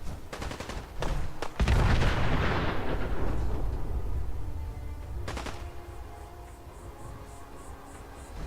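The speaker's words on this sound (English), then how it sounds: "I believe somebody has a missile launcher." A missile launcher fires in the video game Fallout, a sharp launch followed by a heavy, rolling boom that slowly fades, with a later crack and faint rhythmic beeping, loud and close.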